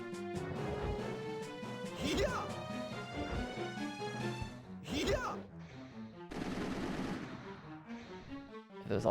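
Cannon fire from a mech's LR Buster Cannon in the GameCube game Zoids: Battle Legends: several loud booming shots and crashing impacts over a constant game music score.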